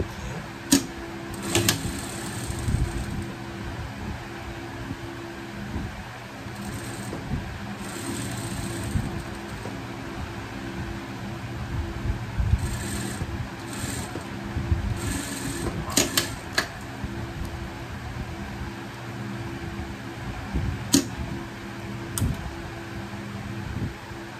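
A sewing machine runs seams along lycra ribbing for small pet underwear, its rapid mechanical stitching whirring in bursts and pauses under a steady room background, up close and fairly loud.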